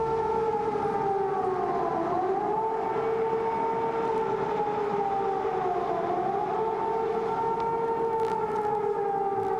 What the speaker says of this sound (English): Let's listen to the air raid sirens here. We hear them now.